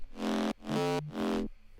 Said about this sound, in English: Then here I have a mid bass, which sounds like this.